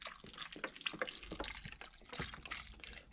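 Beef broth poured from a carton into an Instant Pot of stew, a close, uneven splashing and glugging liquid stream with small drips and gurgles, fairly quiet and without talk.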